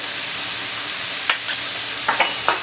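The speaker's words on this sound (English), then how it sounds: "for roughly 1 minute now since I've been stir frying it" Cabbage stir-frying with a teaspoon of butter, a constant broad sizzle with a handful of sharp utensil scrapes near the end, close and even, no talking.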